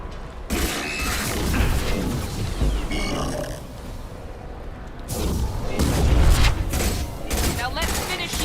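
Mass Effect 2 combat on hardcore difficulty: a dense mix of weapon fire, mechanical clatter and blasts, with a heavy booming burst around the middle and another loud surge near the end, over continuous battle noise.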